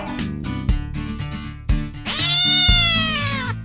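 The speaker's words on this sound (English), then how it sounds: "A cat that Tom had hidden there sprung out at Aunt Polly." A cat lets out a loud, drawn-out caterwauling meow near the end, rising over busy background music with sharp hits throughout.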